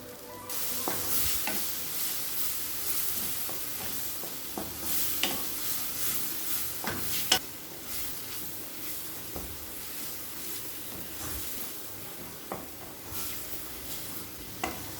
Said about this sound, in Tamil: மிளகாத்தூள் சேர்த்துட்டு ஒரு அஞ்சு நிமிஷம் நல்லா வதக்கிக்கலாங்க